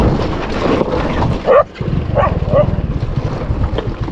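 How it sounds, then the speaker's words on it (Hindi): A dog barks and yelps a few times at mid distance, rushing at a person on an open roadside near Indira Point, Campbell Bay, amid steady wind noise and background rumble. "कुत्ता दौड़ के आ गया था मुझे काटने के लिए।"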